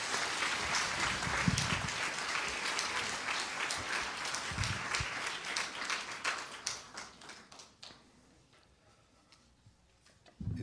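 An audience at a South East Asian landscape design lecture applauds to welcome a guest, with steady, dense clapping that thins into scattered claps and fades out near the end.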